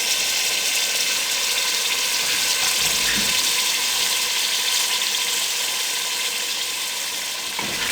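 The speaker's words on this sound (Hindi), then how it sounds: "इसकी अब यखनी 1 कटोरी अब इसमें हम डाल देंगे" Chicken stock poured into mixed vegetables cooking in a pan: a loud, steady sizzling hiss with bubbling liquid and a few faint stirring clinks, continuous and close, no talk.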